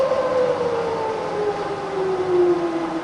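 A rebuilt Bridgeport milling machine spindle runs in reverse, giving a steady, fairly loud mechanical whine whose pitch slowly drops throughout, with no voices.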